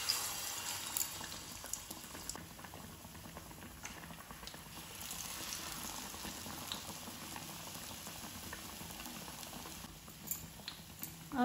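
Bread pakoras hiss and crackle in hot deep-frying oil, a steady, close bubbling sizzle with scattered pops running the whole time.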